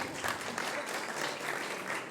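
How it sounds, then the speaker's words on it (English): A room full of people applauds at a press club event, a dense, even patter of clapping that holds steady throughout. "No need to applaud."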